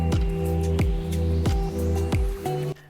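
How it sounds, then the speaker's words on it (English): A food processor pulses edamame hummus with garlic and chard, giving about five short whirring bursts spaced evenly, each with a sharp start, close and fairly loud before it stops. "We are gonna pulse this"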